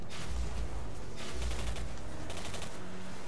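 Rapid bursts of automatic gunfire in the video game Singularity, loud and continuous, with several clusters of shots overlapping across the clip and no voices.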